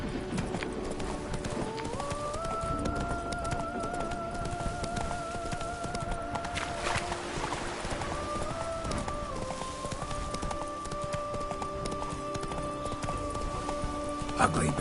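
A horse in The Witcher 3 video game gallops with rhythmic hoof clip-clop throughout, under sustained game music tones and a brief whinny.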